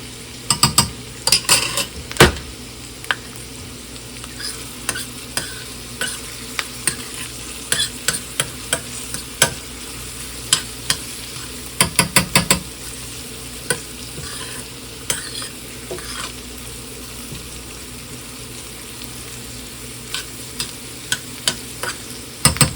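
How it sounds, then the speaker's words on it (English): Sesame seeds toast in hot oil in a pan, giving a steady close sizzle broken by frequent clicks and scrapes of stirring against the pan. "I'm going to go ahead and add in some sesame seeds. Toast those a little bit here in the oil."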